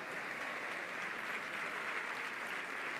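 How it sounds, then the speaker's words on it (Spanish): An audience at a sports awards gala in Béjar applauding, with dense, even clapping from a crowd heard at moderate distance and lasting steadily throughout. "¡Fuerte aplauso, enhorabuena!"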